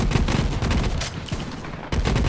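Flakker gun in Borderlands 3 letting off a dense, loud burst of rapid explosive shots, crackling blasts crowding one another, with a short lull near the end before another hit.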